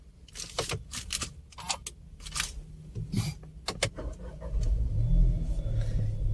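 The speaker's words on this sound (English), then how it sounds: "Now let's start the car." A Volkswagen Taigun 1.0 TSI petrol SUV engine starting: a few clicks and key jangles, then the engine catches with a low rumble and settles into a steady, close idle.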